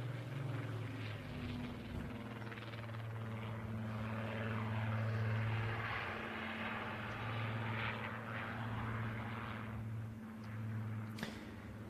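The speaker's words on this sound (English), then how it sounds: "here comes the Spitfire for a final pass, and this will, of course, be a victory roll." A Rolls-Royce Heritage Flight Spitfire PR 19 engine drones steadily at an air festival, a deep sustained hum with a rising and falling roar as it passes in a final victory-roll flypast, no voices.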